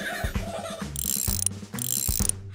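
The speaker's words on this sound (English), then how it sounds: "To clench, to lift up this wrench." A cartoon wrench ratchets on gears in a garage, giving two bursts of rapid mechanical clicking and whirring, close and loud, with a short pause between them.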